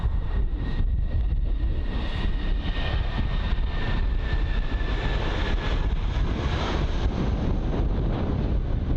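Scandinavian Airbus A320neo lining up on a runway at London Heathrow in roughly 45 mph wind, its steady jet engine drone nearly buried under continuous loud wind buffeting the microphone.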